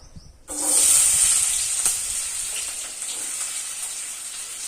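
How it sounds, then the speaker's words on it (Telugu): Chopped onions go into hot oil for gongura chicken and burst into a loud, bright sizzle that then settles into a steady, slightly fading fry, close and alone. "ఆయిల్ అయితే హీట్ అయింది ఇప్పుడు వచ్చేసి మనం ఉల్లిపాయలు వేసేసుకుందాము"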